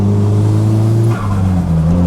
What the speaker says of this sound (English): Basically, when I open up the car, it sounds like I've got gate when I really don't.